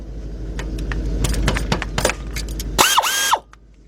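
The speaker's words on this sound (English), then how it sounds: "use my 15 millimeter shallow 3/8 drive with my air ratchet" An air ratchet with a 15 mm shallow 3/8 drive socket loosens bolts on a Ford Explorer front hub, giving rapid clattering mechanical bursts, then a short hissing whir before stopping, close and alone.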